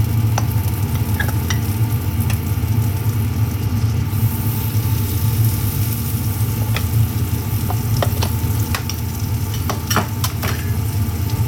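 Butter melts in a little oil in a frying pan, giving a steady, close, even sizzle that runs unbroken from start to finish, with occasional faint clicks of a utensil.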